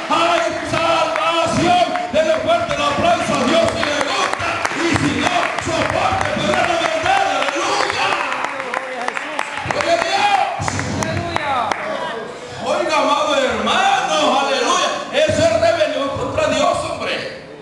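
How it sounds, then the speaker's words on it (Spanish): A church congregation claps and cheers loudly for a sustained stretch, crowd noise and voices blending with the applause, easing briefly midway before swelling again. "Denle fuerte el aplauso a Dios si le gusta"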